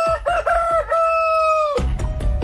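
A rooster lets out one loud, close crow with a drawn-out final note, followed by rougher clucking and scratchy barnyard noise.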